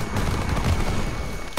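Dense, rapid gunfire from the Call of Duty WW2 campaign crackles continuously at close range, a steady burst of automatic shots filling the short moment without pause.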